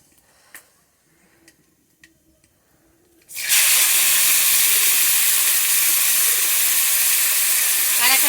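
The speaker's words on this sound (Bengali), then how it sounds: "কালো জিরা পুরন দিয়ে আমি শাকটা এবার দিয়ে দেবো।" Chopped leafy greens hit hot oil tempered with nigella seeds in a traditional Bengali shaak dish: after a few quiet clicks and taps, a sudden loud, bright sizzle erupts and hisses steadily and close until the end.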